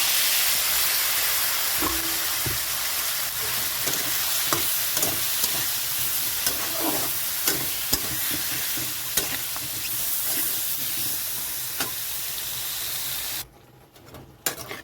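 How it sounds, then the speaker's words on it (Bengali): Green chilli spice paste, with water just added, hisses and sizzles loudly in a pan for an Indian fish curry with potatoes, with steady stirring clicks until the noise drops away near the end. "কাঁচা লঙ্কা মশলাটা কষানোর জন্য একটু জল দিয়ে দিচ্ছি"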